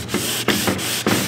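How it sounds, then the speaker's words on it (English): A plastic car headlight lens is sanded by hand with short rhythmic rubbing strokes, roughly four scrapes close up and moderately loud, with brief pauses between passes. "I'm gonna sand this down till it's smooth."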